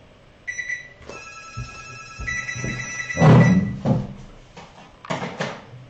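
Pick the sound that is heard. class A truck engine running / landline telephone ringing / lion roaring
landline telephone ringing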